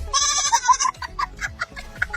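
A human voice imitates a goat's bleat: a nasal, wavering cry of about one second, followed by shorter broken bleating sounds, heard up close.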